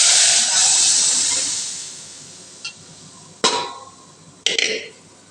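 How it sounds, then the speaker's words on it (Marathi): Boiling water hits hot fried spices for vegetable sambar, bursting into a loud steamy hiss that slowly fades, followed by a few sharp metallic clinks of a pot and spoon. "उकळतं पाणी घालायचं सांबारला, सांबार छान होतो।"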